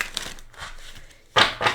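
Tarot cards are shuffled by hand in short, crisp riffles and papery rustles, close up, with a louder burst near the end.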